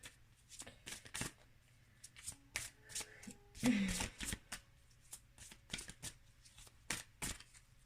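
Tarot cards being shuffled and drawn, soft close flicks and slaps of card stock in irregular bursts, faint and intimate, with brief bits of voice in between.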